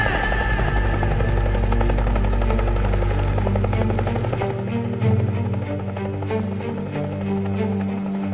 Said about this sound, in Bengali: হেলিকপ্টার আসছে স্যার, হেলিকপ্টার আসছে